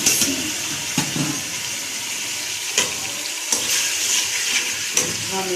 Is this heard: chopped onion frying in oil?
yes